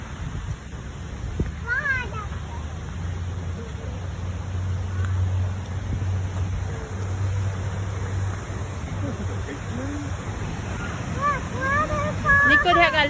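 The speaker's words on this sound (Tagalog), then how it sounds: "Ayan yung falls. Ang lakas-lakas." Rushing waterfall at a Louisiana falls, a steady broadband roar of water filling the whole clip with wind buffeting the mic, while family members chatter and call out over it.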